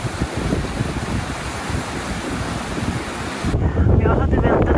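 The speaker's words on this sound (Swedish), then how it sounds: "Hur det blåser idag!" Strong wind buffets a microphone on a mountain hiking trail in Lappland, a steady loud roaring rush that thickens into heavier low gusting toward the end, with no voices over it.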